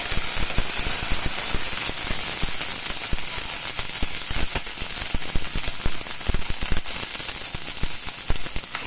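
A steady hiss and crackle of an oil-and-water mixture sizzling on a hot pan while making chilla, with sharp popping spits scattered through a continuous fizz.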